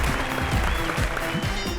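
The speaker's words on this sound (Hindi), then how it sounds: "जोरदार तालियां इनके लिए" Studio audience applause on a Hindi TV comedy talk show set, steady and loud, with some tonal music or voices faintly mixed in underneath.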